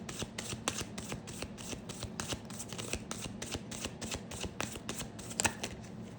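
Tarot cards shuffled continuously, a steady rapid riffling patter of many crisp card flicks close up, with no voice over it.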